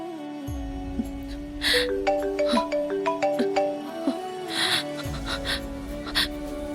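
A mobile phone ringtone plays a stepped electronic melody that repeats in a clear loop near the listener, joined by faint breathy sounds.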